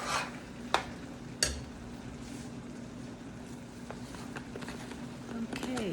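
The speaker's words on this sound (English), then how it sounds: "So I'm just mixing that in so that my bouillon cubes all melt and go through my onions" Onions and bouillon cubes are stirred in a pot, with a low sizzle and a couple of sharp utensil knocks against the metal.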